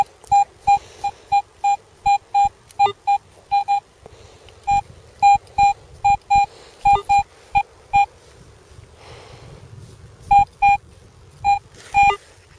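A metal detector sweeping a field emits a repeated series of short, clear electronic beeps in quick rhythmic bursts as it passes over a buried target, with brief gaps between runs and faint rustle underneath, no speech.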